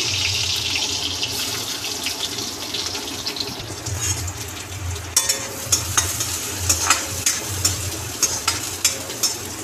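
Onion and curry leaves frying in oil in a pan, a steady broad sizzle with stirring scrapes growing into a string of sharp clinks toward the end, close and fairly loud, no talking.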